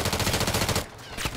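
Rapid automatic gunfire rattles loud and close in a video game team match, a dense continuous burst that cuts off after under a second and is followed by a few scattered sharper shots.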